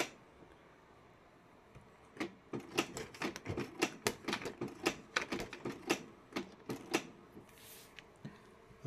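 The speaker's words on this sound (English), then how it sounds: "I am printing." A Canon TS3522 inkjet printer prints with a quiet, rapid series of sharp mechanical clicks and rattling ticks in an irregular rhythm, close and alone.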